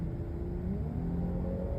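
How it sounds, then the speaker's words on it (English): Infiniti Q60 Red Sport 400 accelerating under throttle, heard from inside the cabin as a steady low engine rumble with a gently rising tone over road noise. "let's change lanes and give it a little bit of throttle."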